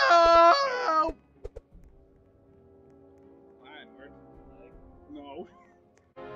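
A cartoonish cat meow sounds from a Roblox evolution tycoon game, a loud rising-and-falling mew followed by faint game tones and small clicks.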